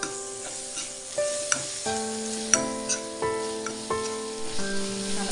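An onion and a coarsely ground kharda of ginger, garlic and coriander are stirred and sautéed in a pan. A moderate sizzle runs beneath steady background music, punctuated by regular spoon taps and scrapes.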